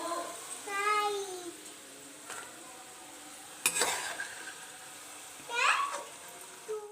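Fried French fries scooped out of hot oil into a bowl, with a few metal clinks and scrapes against faint sizzling, and bits of distant voice and chatter in between.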